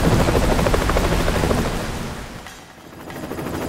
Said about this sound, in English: The helicopter's ready.